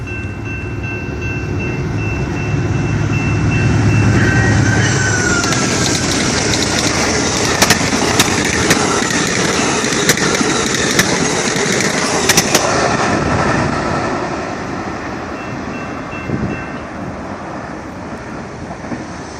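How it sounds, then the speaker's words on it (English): An Amtrak Genesis P42DC diesel locomotive passes with its train on a BNSF line, a loud, sustained roar and rumble of engine and rolling wheels with horn tones and sharp clanks and rattles that build, hold near, then fade. "Out of nowhere, that Amtrak just came out of nowhere."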